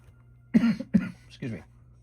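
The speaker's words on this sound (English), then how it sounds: "Coughing it up over here." A person coughs three times in close succession, harsh and throaty at close range, with no other sound around it.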